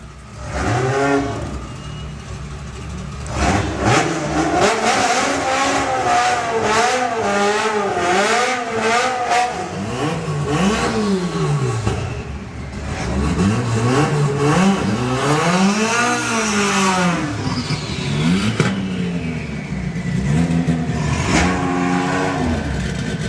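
A Colston Racing Volkswagen Golf drag car launching and accelerating down the strip, its engine revving hard in repeated rising sweeps through the gears, loud and close throughout.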